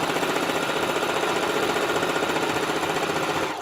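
A sewing machine stitches a Christmas tablecloth, a fast, even, continuous mechanical whir running loud and close without pause until it slows at the very end.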